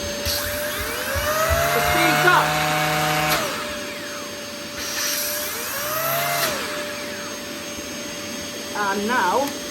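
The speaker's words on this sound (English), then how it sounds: "this turbine brush hasn't actually aged well, so it doesn't spin that fast, if I demonstrate that for you now" A Dyson DC11 All Floors vacuum cleaner running with its aged turbine brush spinning slowly, a steady motor whine rising and falling in pitch with a few bursts, while a person talks over it.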